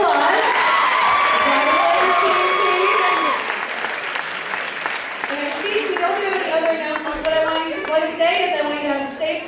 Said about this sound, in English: Let's give them a really big one last round of applause.